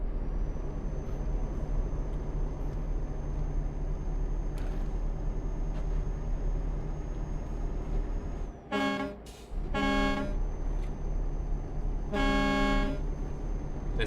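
Truck engine droning steadily on the road with a low rumble, then a gear change around the middle brings a brief dip followed by harsh, horn-like tonal bursts and a second loud blast near the end.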